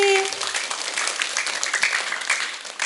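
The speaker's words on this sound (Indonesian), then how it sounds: "Oke, tepuk tangan sekali lagi." An audience at a live primary school performance event applauds, a dense wash of clapping that starts strong, then continues steadily and close for the whole stretch, with a brief tone at the start.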